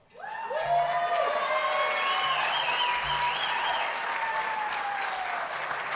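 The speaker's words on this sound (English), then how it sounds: "Can we please give him another round of applause as we award him his award?" Audience at an awards gala breaks into loud, sustained applause with a few whoops and cheers, while a rising melodic tone plays through the clapping.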